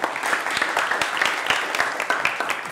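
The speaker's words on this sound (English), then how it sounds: "Let's give a round of applause for being here." An audience in a college talk applauds a speaker, a steady moderate wash of many hands clapping with distinct claps scattered through, a bit distant and continuous throughout.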